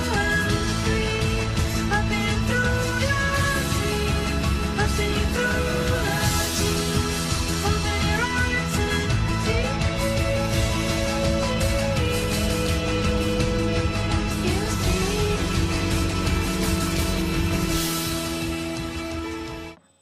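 An end-credits song from a movie plays steadily and fairly loud throughout, a dense mix of sustained instruments with melodic lines on top, fading out only in the last couple of seconds.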